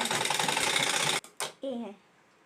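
A sewing machine stitches the lining of a blouse, a rapid, close mechanical whirr that stops abruptly, followed by a brief clack and a short spoken word.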